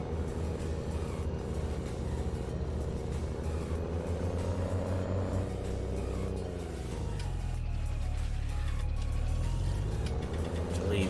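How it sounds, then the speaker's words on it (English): A farm tractor's engine rumbles steadily and loudly at close range, with a deep, continuous drone that dips and then swells as the load or revs change, heard from inside the noisy cab. "They are a nice tractor."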